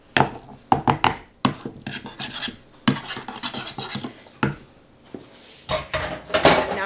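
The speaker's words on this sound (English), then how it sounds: "take your masher again and mash it just a little bit more so that everything gets even" A potato masher works strawberries in a pot for jam, giving a rapid series of loud, close metallic clanks and scraping squelches in uneven bursts with short pauses.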